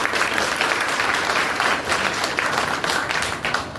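A crowd at a party cadre meeting bursts into applause, a thick, loud wash of many hands clapping together that holds steady for a few seconds before tapering off.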